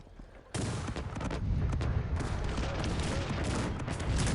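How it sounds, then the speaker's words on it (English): Cannons boom in dense, overlapping volleys during a Cossacks 3 video game battle, a loud continuous barrage of artillery fire with brief calmer gaps, and no talking over it. "A lot of cannons firing there though."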